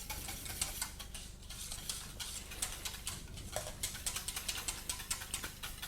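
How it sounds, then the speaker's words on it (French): Soup ladled into egg yolk and cream and whisked while making a velouté Dubarry: a steady run of quick, close taps and light scraping from the whisk against the bowl, with no voices. "mettre une louche ou deux dans votre jaune et votre crème, de mélanger dans un premier temps avec le fouet"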